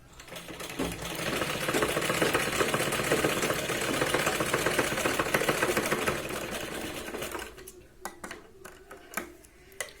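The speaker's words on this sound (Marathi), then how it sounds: "आपण गळ्याला ह्याच पद्धतीने इथे शिलाई जी आहे ती लावून घेऊया" A sewing machine stitching the neckline of a katori choli blouse runs in a fast continuous whir for several seconds, then breaks into short separate bursts and clicks, close and fairly loud.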